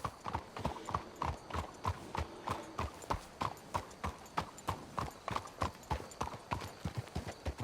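Horse hooves clip-clop in steady, even beats in Red Dead Redemption 2, a clear, close walking rhythm that carries through the whole stretch with no talk.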